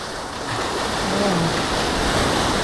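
Ocean surf washing onto Eden Beach in Pondicherry, a steady broad roar of breaking waves that swells slightly partway through, with no voices.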